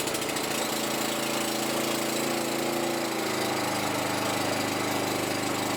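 A Kawasaki lawn mower engine runs steadily at full throttle, loud and close with a continuous rough buzzing drone and no pauses.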